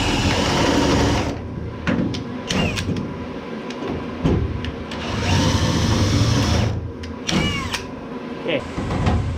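A power drill whirs in short, repeated bursts of varying length, enlarging holes during a late model race car fuel cell install, close by, with people talking between and over the bursts.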